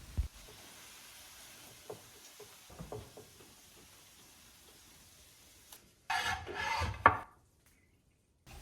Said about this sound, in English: don't forget to scrape the remaining sauce off the pan into the meat